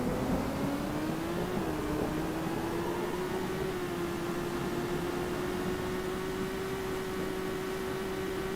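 A car in the Twister: Research and Rescue storm-chasing game drives with a steady, continuous engine drone whose pitch rises slowly, set against a constant wash of wind-like noise.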